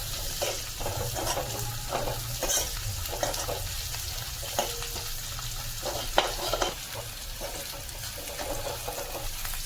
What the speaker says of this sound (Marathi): आपलं वाटण भाजायला ठेवलं होतं ते बघूया